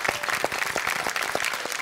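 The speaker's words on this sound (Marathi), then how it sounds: "एकदा जोरदार टाळ्या होऊन जाऊ देत." Loud applause from a studio audience at a Marathi television game show, a dense steady clapping that fills the whole stretch without talk.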